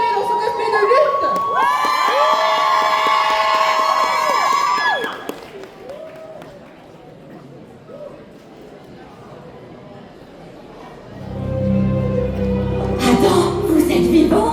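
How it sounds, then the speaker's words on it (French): Audience at a cosplay roleplay contest cheers and applauds loudly for several seconds, then quiets as music and a stage voice take over, with a second burst of crowd noise near the end. "Applaudissez très fort"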